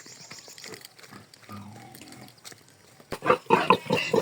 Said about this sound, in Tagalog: Ito ang babuyan ni Don Aje at Donya Matet.